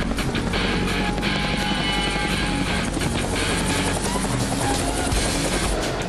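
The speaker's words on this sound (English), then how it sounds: "flying helicopters at a low level" A helicopter flying at low level for a SWAT operation, its rotor chop loud and steady throughout, with dense broadband engine and blade noise close overhead.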